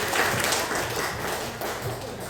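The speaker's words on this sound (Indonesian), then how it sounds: "tepuk tangan dong" Applause at a school staff working meeting, a crowd clapping in a dense continuous patter that stays moderately loud and fades slightly toward the end.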